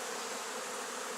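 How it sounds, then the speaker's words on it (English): A dense swarm of bees flying around a top bar hive during a hive move, producing a steady, continuous buzzing drone that fills the whole moment at close range. "there were so many bees flying around"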